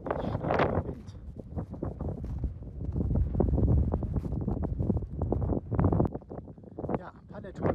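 Strong north foehn wind at a paragliding launch spot near Bassano, roaring and buffeting the microphone continuously, loud and unbroken throughout.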